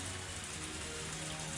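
Torrential rain drums steadily on a car roof in a video game, a dense, even patter that fills the whole stretch without a break.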